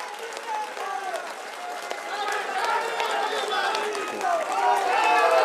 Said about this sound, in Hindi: तालियां जोरदार ढंग से बजाइए।